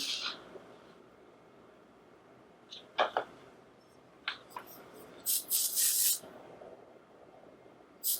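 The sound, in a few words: aerosol hairspray being sprayed during a haircut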